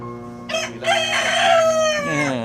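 A single loud turkey call rises into a long, wavering gobble, close by and alone, lasting about two seconds.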